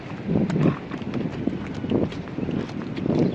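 Hooves clip-clop in a steady repeating rhythm on hard ground, close and fairly loud, with some wind noise and no talk.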